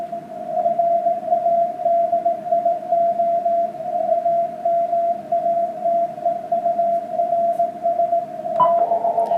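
Radio receiver output through a narrow 100 hertz filter, a steady single tone held clear of a soft hiss of band noise, continuous and even, with a brief burst of wider noise near the end.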